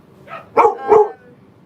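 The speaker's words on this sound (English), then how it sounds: "Wow, there's a lot of dogs outside. Yeah, they never bark like that." Neighbor's dogs barking outside: a soft lead-in yip followed by two loud, close barks in quick succession, with no talking.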